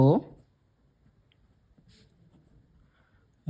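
Pen writing numbers on paper during a class 6 maths lesson, faint soft scratching strokes close by, framed by brief bursts of speech at the start and end.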